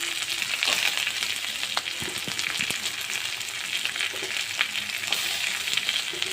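Onions and tomatoes fry in a pan for a chicken curry, a dense, steady sizzle close by, dotted with light scrapes and taps from stirring.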